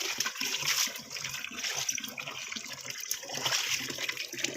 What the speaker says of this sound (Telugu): ట్వంటీ ఫోర్ అవర్స్ ఇట్లా వాటర్ వస్తాయి